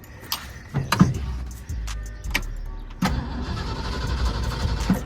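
A truck that has sat unused for about four months being cranked over, the starter turning the engine in repeated churning bursts with clicks and short pauses, close by.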